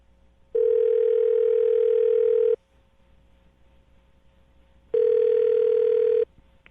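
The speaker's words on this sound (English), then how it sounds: "I'm going to dial the phone number right now and get him on the phone" A telephone ringback tone heard while calling a phone number: two long, steady, even beeps separated by a silent gap, loud and clean with no talking.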